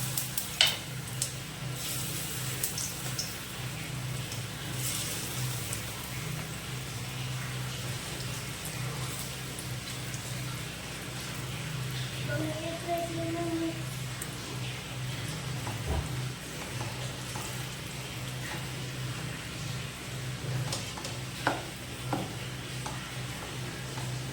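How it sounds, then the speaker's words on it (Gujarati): Rava handvo batter tipped into a pan of sizzling mustard seeds and cumin, giving a steady close frying hiss with stirring scrapes throughout, no talk. "આપણા રાઈને જીરું થઈ ગયા છે, તેમાં આપણે આ મિશ્રણને નાખી દઈશું."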